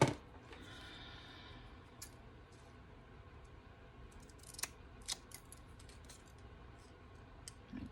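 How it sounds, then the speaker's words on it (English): Small hair-thinning scissors snip through paper in a run of soft, close crisp cuts followed by a few sharper clicks and snaps, quiet and with no voices. "Trusty little hair thinners."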